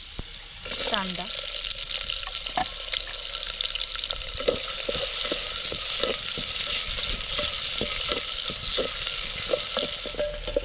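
Cardamom, black pepper, cloves, cinnamon and garlic frying in hot oil, a steady loud sizzle with scattered clicks of a stirring spoon, close by; a voice speaks briefly near the start.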